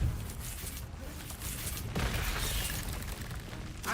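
Confringo fire spells exploding in a Harry Potter video game, heard as a loud, continuous roar of rumbling blasts that swells again midway, with no clear gaps between bursts.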